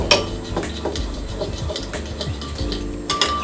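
A utensil stirs warm milk with yeast and sugar in a bowl, giving a close, quiet run of scraping strokes and light clinks against the bowl over a few seconds.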